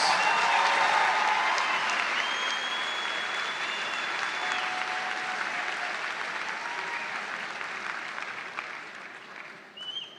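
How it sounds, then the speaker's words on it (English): A commencement crowd applauds graduate students, a broad, even roar of clapping in a large hall that slowly tapers off toward the end. "How about a round of applause for these graduate student graduates?"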